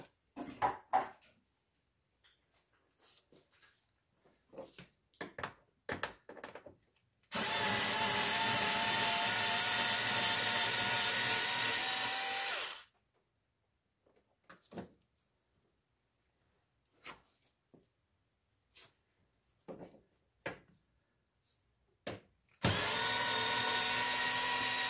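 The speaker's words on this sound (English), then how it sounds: "I'm going at it with a cordless screwdriver above you" A cordless screwdriver drives a 7mm head screw overhead while working on a 240Z clutch hydraulic system, two sustained high whirring runs, the first about five seconds long and the second starting near the end, separated by quiet clicks and handling.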